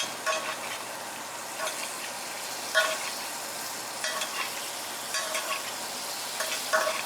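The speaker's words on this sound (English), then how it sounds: "allow me some more time to baste this in the butter sauce." A steak sizzles steadily in a hot pan while being basted with butter sauce, a constant crackling fry broken by brief spoon-scrape and splatter bursts every second or so, up close with no talk.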